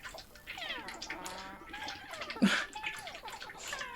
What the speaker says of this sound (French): Le bruit, c'est mon chien qui boit